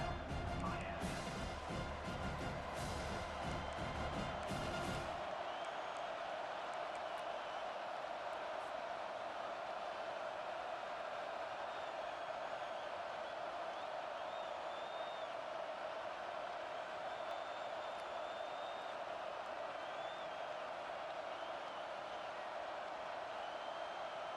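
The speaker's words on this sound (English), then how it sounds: "This crowd busting the decibel meter and trying to will a 4th down stop." Stadium crowd in EA Sports College Football 25, a steady roar of noise from a packed stadium during a late first-half fourth-down stand, loud and continuous with a brief burst of heavier noise at the start.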